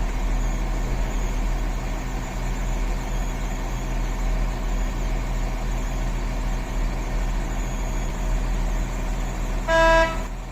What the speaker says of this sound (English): That horn sound was supposed to signal that the vehicle was starting up